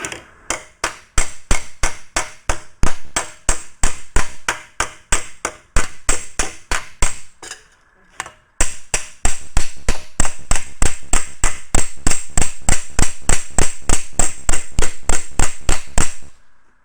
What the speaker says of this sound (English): there's our flat face hammer. No crown to it at all. And we're going to tune this right up.